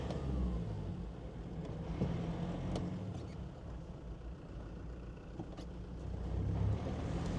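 Land Rover Defender 2.4 with a Stage 3 power upgrade accelerating through the gears, a steady low engine drone with continuous road and wind rumble and a brief rise in revs near the end.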